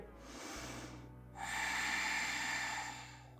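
A deep, airy inhale during a yoga session, soft and close, with a brief pause before a longer, fuller breath.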